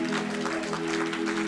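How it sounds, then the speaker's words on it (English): Church congregation clapping hands during a worship service, a dense burst of applause heard somewhat faint and steady throughout. "Give God a hand clap for Prophet Rush."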